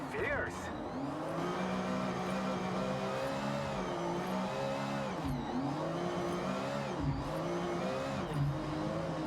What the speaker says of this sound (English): this Ferrari sounds so good